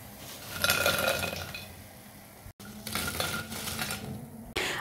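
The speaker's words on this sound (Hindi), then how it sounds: "ये सारे फ्राई हो गए हैं, इनको निकाल लेते हैं।" Fried phulkiyan are lifted out of a pan with a metal utensil. Soft clinks and scrapes sound over a faint sizzle, with a brief gap midway, then a final clink.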